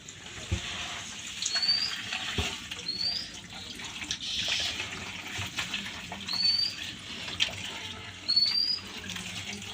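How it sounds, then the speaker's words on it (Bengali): Rice grains are washed in water, with steady running and sloshing from a tap or sink, gentle splashes, and a few faint high chirps in the background. "এখন এই যে চালগুলো আমি ধুয়ে নেবো"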